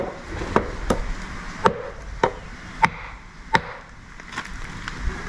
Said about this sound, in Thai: มาฟังเสียงไม้กระถิ่นลงครับ